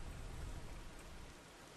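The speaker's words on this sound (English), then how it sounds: "It's raining and it's dark." Steady rain falls in Fallout: New Vegas, a dense, even hiss of drops with a low rumble beneath, continuous and without voices.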